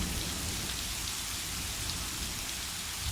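Rain falls steadily in a storm, a dense, even hiss of drops on surfaces that continues without a break, fairly soft and with no voices.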